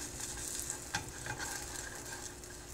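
Pancakes cook in butter in a frying pan, giving a steady, close sizzle throughout with a few faint scraping touches and a small clatter near the one-second mark.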